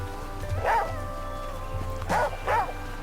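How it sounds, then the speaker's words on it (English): Wolf in the video game The Flame in the Flood, giving three sharp close barks, one early and a quick pair near the end, over a quiet low game backdrop. "I didn't even see that wolf till it was too late."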